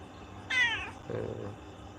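A single cat meows once, a rising, drawn-out call close by, followed by a softer low murmur.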